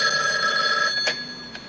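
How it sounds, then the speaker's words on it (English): A telephone rings on an outgoing call in a 1980s police drama, a steady electronic ringing tone held for about a second, then a short burst and a second brief ring, heard alone without talk. "I better call Mrs. Dupree."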